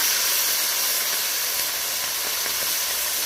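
Marinated home-raised chicken meat hits a hot pot for biryani and sends up a loud, continuous steamy hiss that holds steady throughout.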